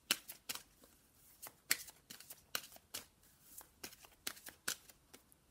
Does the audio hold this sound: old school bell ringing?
no